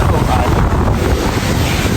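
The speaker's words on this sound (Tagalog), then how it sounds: "Napakalakas ng" Strong wind roars and buffets the microphone continuously, a loud, rough, low rumble with no pauses.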